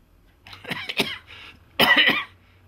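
Two bursts of coughing, a short hacking pair followed by a harsher, louder cough, close up with no talking.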